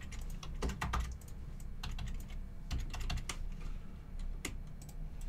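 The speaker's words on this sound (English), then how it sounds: "Keyboard not working?" Someone types on a computer keyboard in quick, irregular bursts of close key clicks with short pauses between them, and nobody speaks.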